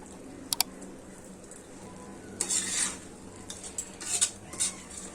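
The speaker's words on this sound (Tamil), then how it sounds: "அரிசி சேர்த்துட்டு அந்த ஆயில்ல நல்லா கிளறி விடணும்" A utensil scrapes and clinks against a pan as rice is stirred through hot oil for a meal maker pulao, with a couple of sharp metallic taps, then several scraping strokes over a soft sizzle.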